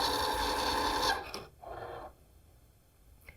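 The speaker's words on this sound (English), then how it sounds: "with this machine, you eliminate any chance for errors in cutting" An electronic fabric cutting machine works over a mat cutting fabric for a log cabin potholder, a fairly faint mechanical whir and rasp that stops after about a second, followed by brief quieter motor movements.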